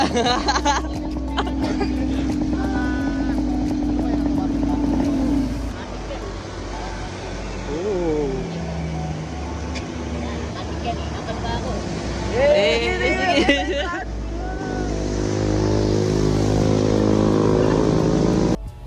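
A motorcycle drones steadily, close and loud, through most of the ride, its engine tone rising and falling, with people talking and calling out over it.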